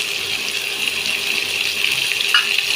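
Grated coconut frying in hot ghee in a pan gives a steady, loud, unbroken sizzling hiss throughout, with no voices.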